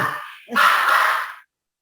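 A single short dog bark or yip, loud and close, following a brief rising whimper-like sound, then silence.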